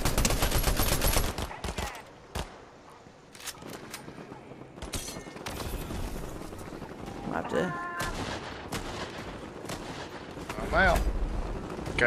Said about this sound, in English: We're going to shoot that gun